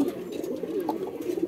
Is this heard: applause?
no